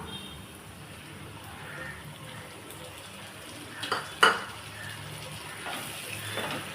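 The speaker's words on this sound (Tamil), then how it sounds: "தக்காளி வந்து நல்லா ஒரு தொக்கு பதத்துக்கு வதங்கி வரணும்" Finely chopped ripe tomatoes sauté with onions in a pan for an egg pepper fry, with a soft, quiet frying hiss and a few sharp metal clinks of a spoon against the pan near the middle.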